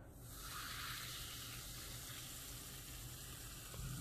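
Edible citric acid spooned into liquid gives a soft, steady fizzing hiss that stays faint and even throughout, with no one speaking.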